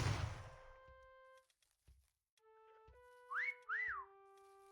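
A person whistles a short, rising-and-falling two-note phrase, soft and fairly close, after some quiet tonal sounds and faint clicks.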